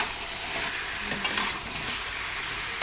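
Meat browning in a pan gives a dense, steady sizzle with a couple of brief scraping stirs, close up and with no voices.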